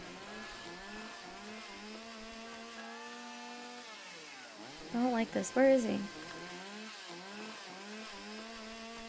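A video game chainsaw drones steadily in the woods, its engine briefly revving louder and higher in the middle, while a person speaks quietly over it.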